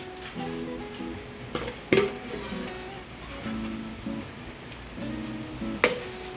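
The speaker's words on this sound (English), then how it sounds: "Just give it a stir." A spoon is stirred through a pot of Trini chicken foot soup, giving soft sloshing with a few sharp metal clinks against the pot's side. It is quiet and close, with no voices.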